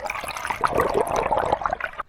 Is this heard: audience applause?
no